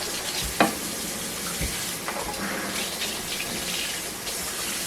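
Liquid soap poured into dry ice water, fizzing and bubbling in a steady hiss with a few sharper pops and splashes, close by.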